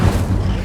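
Incendio fire spell blast in the game Hogwarts Legacy, a short, dense, rumbling burst that stays loud and full for its whole brief length with no pause.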